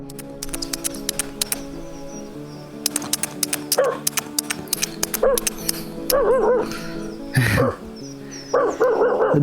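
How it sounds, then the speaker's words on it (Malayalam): A village dog barks repeatedly in uneven bursts, with yips and whimpering cries between them, fairly clear and standing alone without talk. "ദൂരെ നിന്ന് എന്നെ കാണുമ്പോൾ ഒരു പട്ടി കുരക്കുന്നതാണ്."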